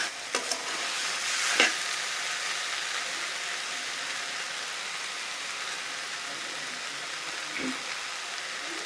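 Aubergine curry cooked in very little oil without garlic sizzles steadily and loudly in a pan, with a few clicks and scrapes of stirring near the start and again toward the end.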